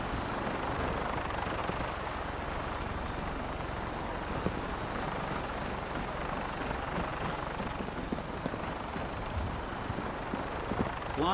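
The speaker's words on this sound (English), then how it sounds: "Flying around in a 200-year-old aircraft?" A Vertibird aircraft from Fallout 4 flies with a steady, loud rotor-and-engine drone that holds an even roar throughout, with a faint rhythmic beating underneath and no voices.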